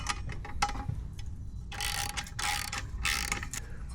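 A ratchet with a 10mm socket works on the exhaust bolts of a Honda Rebel 500 motorcycle, close rapid clicking in short bursts with pauses, no voices.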